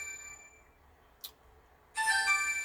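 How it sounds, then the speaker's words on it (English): A mobile phone ringtone sounds inside a truck at a repair shop. A soft tonal melody fades first, then a brief chime follows, and a loud, bright ringing pattern bursts in near the end. "It's gonna keep ringing."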